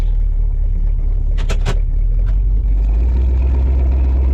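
An LT1-swapped Jeep YJ engine runs close by with a steady low rumble, a few sharp hissing bursts partway through, and the idle deepening and growing heavier toward the end.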